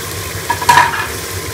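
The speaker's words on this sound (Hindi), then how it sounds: "सारे मसालों को मिक्स कर लेंगे" Whole spices, including black cardamom, star anise, cinnamon sticks and cumin, stirred into hot oil in a pot for beef yakhni pulao, giving a brief scraping stir with a soft sizzle that swells once and fades over a steady background hum.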